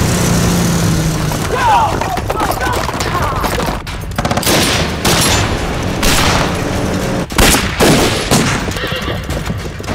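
Gunfire in a Chinese anti-Japanese war drama, a chaotic battle mix of rapid volleys and sharp shots with horses neighing and hooves, loud and dense with shouting voices throughout.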